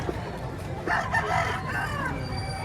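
A rooster crows once in a drawn-out call, heard at moderate distance over steady background noise.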